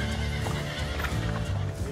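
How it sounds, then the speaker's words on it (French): A horse not ridden for five or six months whinnies while its hooves clop, loud and close, with steady clattering under the neigh. "C'est un cheval qui n'a pas été monté depuis 5-6 mois, on ne sait pas ce qu'il peut faire"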